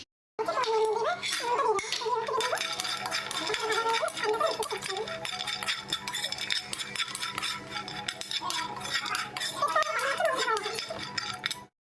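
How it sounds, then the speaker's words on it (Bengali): Peanuts dry roasting in a pan, stirred with a steady scraping and light rattling that runs continuously for about eleven seconds, close and moderately loud. "এগুলোকে একটুখানি হালকা ড্রাই রোস্ট করে নেব"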